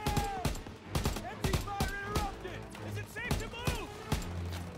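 Call of Duty: WWII gunfire during a World War II campaign battle on Hurtgen Hill, Germany, with repeated sharp shots and bursts spread across the moment, some near and some farther off, alongside in-game voices and music.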